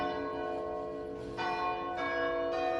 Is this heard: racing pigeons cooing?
no